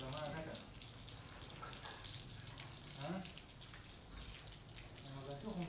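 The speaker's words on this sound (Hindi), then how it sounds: "लो जी पानी लग रहा है" Water sprayed onto a house's walls ahead of plastering makes a steady, close hiss that runs throughout, with brief bits of speech over it.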